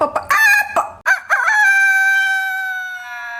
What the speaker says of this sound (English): they even included chicken sounds.